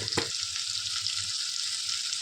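Potatoes frying in hot oil with salt and turmeric, a steady bright sizzle with a brief clatter of stirring at the start, close and fairly quiet with no voices.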